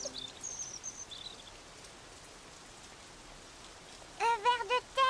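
Soft, steady rain patters throughout, with a few bird chirps early on and a brighter burst of bird calls near the end.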